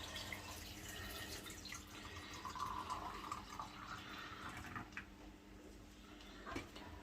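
Water poured from a jug into a jar of turnip and beetroot pickles, a steady close trickle and splash lasting several seconds, fairly faint and without talk.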